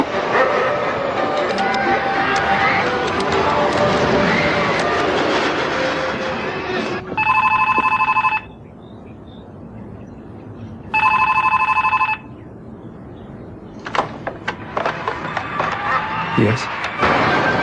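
Public telephone ringing in two long bursts separated by a pause, loud and clear after a stretch of rumbling train-like noise, followed by faint clicks and handling sounds.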